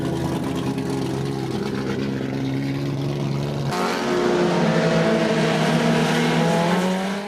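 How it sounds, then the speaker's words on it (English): Vintage four-cylinder race cars powered by Honda 600 motorcycle engines warm up on a damp speedway track, their high, buzzing engines droning steadily, then rising into a louder, higher-pitched pass midway through. "At pit out, the 4-cylinder cars are taken to the track for their warm-ups."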